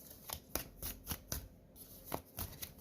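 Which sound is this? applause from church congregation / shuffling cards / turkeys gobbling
shuffling cards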